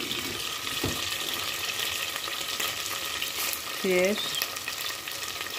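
Tarhana frying in a pan with browned sucuk and tomato paste, a steady close sizzle with stirring scrapes throughout and a brief spoken word partway.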